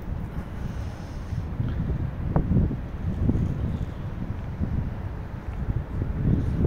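Gusty wind buffets a microphone on an overcast day, a steady low rumble with stronger gusts swelling and fading throughout, no voices.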